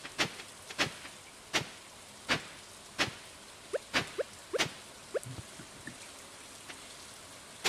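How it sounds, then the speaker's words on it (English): Rain falls in the farming video game Stardew Valley, with scattered sharp drip and patter sounds over a quiet background, spaced irregularly and fading slightly toward the end. "It's raining? Yes, it is raining."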